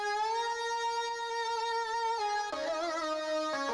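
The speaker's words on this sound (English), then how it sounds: "One is a synth solo." A sustained synth lead plays a slow melody with long held notes and bright harmonics, sliding to a new pitch partway through, steady and loud.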